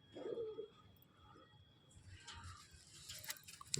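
A Madras pigeon kept at a home loft gives a single soft, low coo near the start. Faint rustling and light pattering follow.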